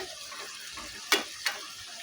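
A spoonful of ghee melts in a pan for a vegetarian cabbage ghonto, giving a steady close sizzle broken by two brief, sharper spits.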